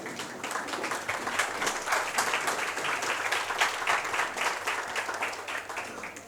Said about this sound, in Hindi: तालियों द्वारा खड़े होकर उनका स्वागत करें।